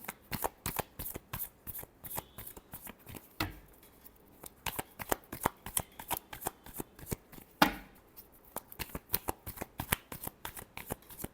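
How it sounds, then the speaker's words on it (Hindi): Playing cards shuffled repeatedly during a tarot-style reading, a steady run of crisp riffling bursts and snaps close to the mic, with a couple of brief pauses, heard alone without talk. "Last shuffle."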